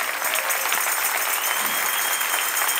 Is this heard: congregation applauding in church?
yes